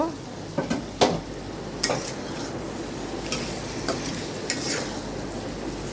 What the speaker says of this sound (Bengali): এখন দিয়ে দেবো এখানে আলু আলুটা আমি পাঁচ মিনিট জন্য কষিয়ে নিব